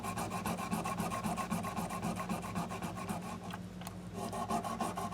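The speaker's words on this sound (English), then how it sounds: "I fold over a little bit of that 1000 grit sandpaper a little bit, and sometimes I can just hit them like this" Sandpaper of 1000 grit folded over and rubbed back and forth across guitar frets, giving a steady close rasping scrub in quick rhythmic strokes, briefly pausing before resuming.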